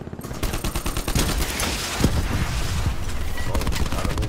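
Dense automatic gunfire and bursts fill a Call of Duty: Modern Warfare match, rapid overlapping shots throughout at close range, with voices faintly underneath.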